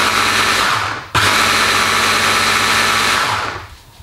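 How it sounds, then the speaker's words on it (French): A small electric blender whirs at high speed, grinding almonds and dry powders for a rocket and almond pesto. It makes a steady, loud buzz with a brief stop and restart, then winds down near the end. "On va commencer par mixer un petit peu nos poudres."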